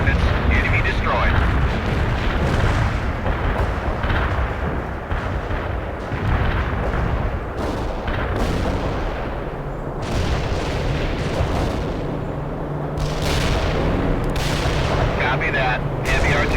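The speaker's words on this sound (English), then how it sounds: "Artillery barrage turned the target area into dust." An artillery barrage in the World in Conflict strategy game, a relentless run of loud overlapping blasts and rumbling impacts rolling through the whole stretch, with occasional voices talking over the din.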